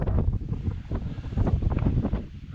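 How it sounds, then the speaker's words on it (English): Strong southwesterly wind on the slopes of Moel Siabod buffets the microphone in loud, uneven low gusts, rumbling close and continuous with no voices. "It's southwesterly wind, so although it's strong, it's not actually cold."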